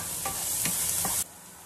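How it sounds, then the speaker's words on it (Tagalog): Onions, garlic and ginger sizzle in a hot pan for a Korean-style chicken curry, with steady frying hiss and three soft stirring scrapes before the sound drops away abruptly. "gigisahin yung aking mga sibuyas, garlic, tsaka yung luya"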